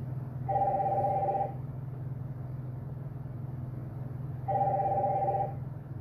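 A telephone rings twice, each clear electronic ring lasting about a second with a long pause between, over a steady low engine-like hum.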